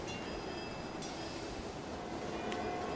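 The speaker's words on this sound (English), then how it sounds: "Look at these trams here." Trams running through a city street in the transit-management game Cities in Motion, heard as a steady, continuous rail rumble with a faint metallic hiss on top and no talk.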